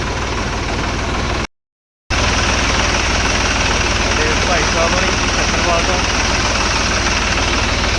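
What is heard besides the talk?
tractor engine running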